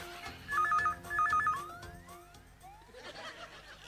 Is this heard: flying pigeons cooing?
no